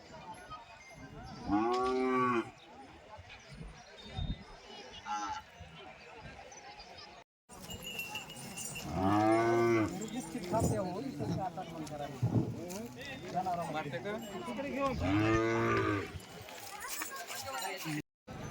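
Deoni cattle at a livestock show in Deoni, Latur, moo repeatedly, long low drawn-out calls close by, with people talking in between and some background shuffling.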